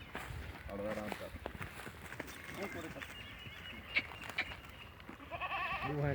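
Goats bleat outdoors among livestock, with several short nasal calls at a moderate distance under fairly steady conversation and some footsteps.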